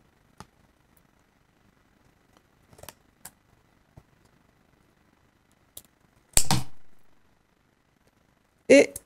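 Scissors cutting out a hexagon shape for a sewing project: faint ticks and handling noises, then two distinct, loud, close snips a couple of seconds apart.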